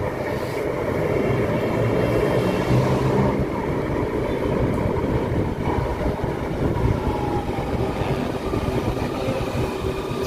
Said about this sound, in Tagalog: Yan, may approaching na po na tren sa Ninoy Aquino Station.